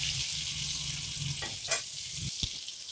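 Methi leaves browning in a pan over a medium flame give a steady bright sizzle, broken by a couple of short stirring scrapes and a sharp tap near the end.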